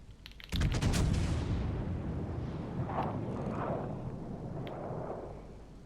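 Naval gunfire from a warship in World of Warships Legends, HMS Conqueror: one loud heavy boom near the start, followed by a long rumbling decay and fainter distant impacts. No talk.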